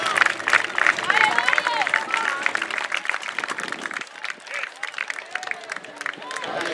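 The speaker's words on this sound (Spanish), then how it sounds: "Un aplauso para el paisano, Mario Alberto." Audience clapping and cheering for a seated weightlifter at a competition in Valencia, a dense burst of applause with whistles and crowd noise under an announcer's voice, easing slightly toward the end.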